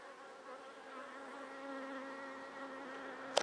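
Calm, gentle honeybees buzzing in an open quadratic hive, a soft, steady hum with wavering tones held close throughout, ending with a brief sharp click.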